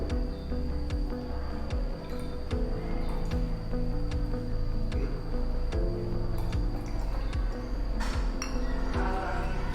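Glassware clinks repeatedly in a quick, uneven rhythm, close by, as a measuring glass pours 15 ml of water onto rice in a laboratory, with a faint watery trickle and soft background hum.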